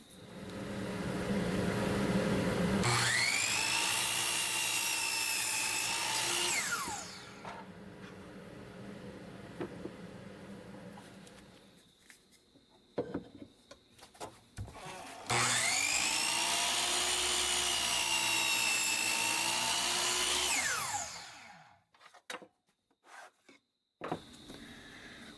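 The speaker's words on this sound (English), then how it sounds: "I'm going to take over to the miter saw. I'm going to make the cuts, remove the material" A miter saw cuts wood twice: each pass is a loud motor whine that rises as the blade spins up, holds steady through the cut, then winds down, followed by clatter as pieces are handled.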